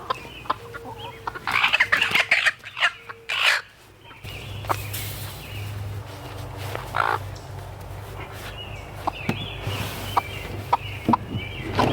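Chickens cluck and squawk close by, with choppy bursts of hen calls and agitated cackles over a low background hum and some scuffling, louder early on and scattered later.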